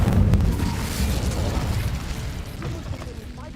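The Incendio fire spell in Hogwarts Legacy, a loud, close burst that flares at the start and then fades into a crackling, roaring rush, with speech mixed in.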